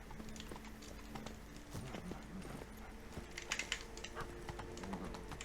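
Hooves of Roach, the horse in The Witcher 3 video game, clopping in a quick, even trotting rhythm, faint and steady against a low background ambience, with a brief brighter clatter partway through.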